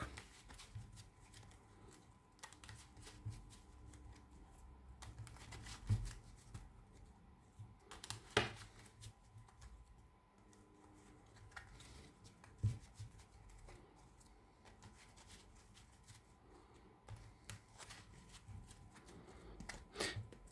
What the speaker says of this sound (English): Let's shuffle our deck.